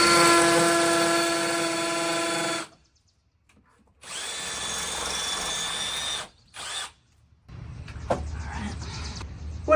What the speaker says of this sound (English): So we don't want to drill anywhere past 2 inches.